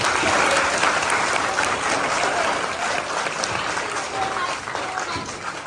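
Loud, sustained applause from an audience at a celebration, a thick wash of many hands clapping that holds steady throughout, with voices faintly mixed in underneath.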